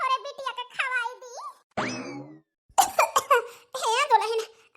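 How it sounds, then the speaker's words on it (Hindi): A cartoon character coughs in a few short bursts, tangled with talk and other voices in an Awadhi comedy skit. "बड़ी खांसी आवती है"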